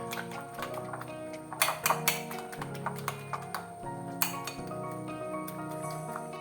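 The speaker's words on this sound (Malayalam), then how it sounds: "ഇനി നമുക്ക് ഇതെല്ലാം കൂടെ നന്നായിട്ടൊന്ന് മിക്സ് ചെയ്തെടുക്കാം" A spoon clinks against a bowl while ingredients for a quick after-school snack are stirred together, with sharp metallic taps and rattles scattered irregularly over a steady low background.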